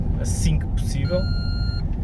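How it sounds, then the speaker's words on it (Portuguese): A steady electronic low-diesel warning beep inside a car, a thin sustained tone lasting about a second, with a person talking over a low engine rumble. "Este é o som de um carro a ficar sem gasóleo, este pip."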